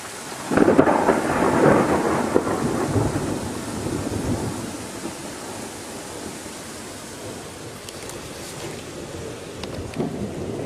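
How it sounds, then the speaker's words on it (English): A deep rumble of thunder rolls in early and fades, leaving steady rain hissing on a surface throughout. "It's raining again."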